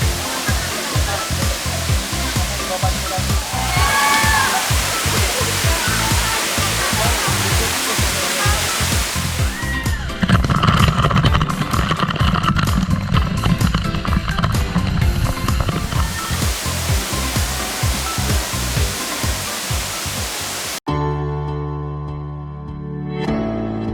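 A waterfall pours steadily into a natural swimming pool below it in Kampar, a dense continuous rushing roar that swells louder midway before cutting off abruptly near the end.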